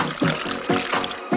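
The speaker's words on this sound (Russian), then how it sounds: "Заполняем форму водой." Water pouring into a mold in short, close bursts, a bubbling, gurgling splash that swells and eases about three times over a little more than a second.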